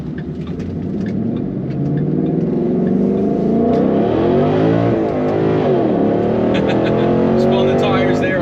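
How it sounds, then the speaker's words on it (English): A Coyote V8 car accelerates hard and spins its big rear tires on the 1-2 shift, a loud close engine roar whose pitch climbs, dips at the shift and climbs again, with a voice talking over it. "Spun the tires there on the 1-2 shift."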